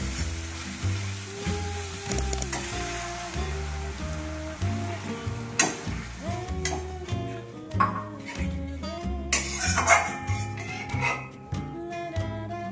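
Water is poured into a fried spice paste for a fish roe curry, bringing a loud, steady sizzle and hiss with bursts of crackling and stirring scrapes, close by and unbroken by talk.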